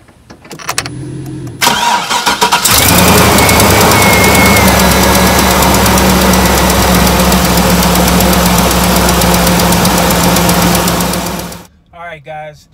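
A truck engine, jump-started with a Tacklife portable jump starter, cranks and catches, then settles into a loud, steady diesel idle that runs for several seconds before cutting off, followed by a voice.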